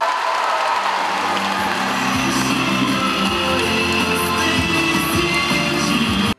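Sustained, roaring applause and cheering from pupils, parents and teachers at a school's first-of-September ceremony, a thick, steady wall of crowd noise that cuts off abruptly at the end.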